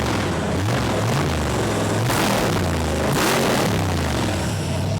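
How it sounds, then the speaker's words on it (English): A 302 V8 (5.0) engine with a fresh fuel-injection throttle unit roars loudly and continuously, with quick snappy rising revs and heavy booming rumble; no talking. "Did you guys hear how snappy that throttle was?"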